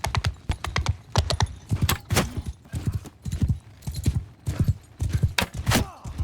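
Cavalry hooves pounding in a Bannerlord battle, rapid clattering bursts of galloping horses in uneven clusters, close and busy throughout with occasional metallic jangles.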